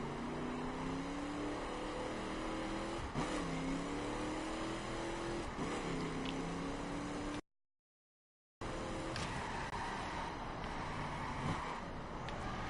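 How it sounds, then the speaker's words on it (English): Car engine in the racing video game The Crew, tires spinning under throttle: a continuous strained engine drone with revving pitch swells and wind noise, cutting out briefly before resuming just as loud. "I'm barely holding the gas, I'm still spinning the tires."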